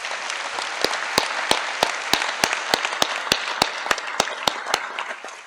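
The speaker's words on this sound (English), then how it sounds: "If the audience would please give a big round of applause for Major Retired Adrienne Allen." A university convocation audience breaks into sustained applause, a dense, steady wash of clapping with sharp individual claps popping out in a regular rhythm.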